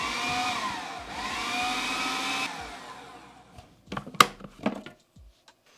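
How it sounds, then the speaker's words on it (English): Food processor pulsing gluten-free flours: a loud motor whir in a couple of short bursts that stops partway through, followed by a few light clattering knocks, with no talking. "I'm basically just going to put the flour in the food processor. And then we're just going to pulse to combine the flours."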